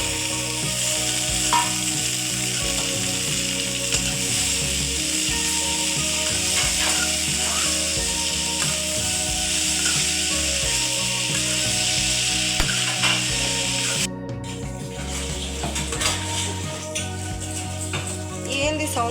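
Tempering frying loudly with black-eyed peas and bottle gourd, a steady close sizzle and crackle throughout with occasional stirring scrapes and a brief clatter near the end.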